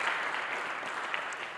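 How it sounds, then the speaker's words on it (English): Audience applause at the GenZero Climate Summit 2023, a steady wash of clapping hands filling the room without pause, fairly quiet and even throughout. "I just want to give a huge round of applause to GenZero for today."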